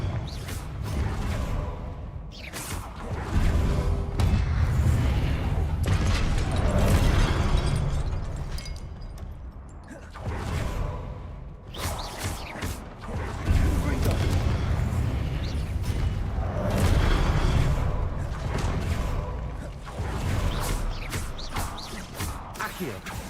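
Repeated booming blasts from the Confringo fire spell in Hogwarts Legacy, with explosive bursts and crashing debris rising and falling over about twenty seconds, and a voice now and then.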